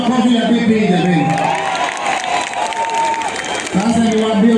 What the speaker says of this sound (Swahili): Makofi ya bibi jamani.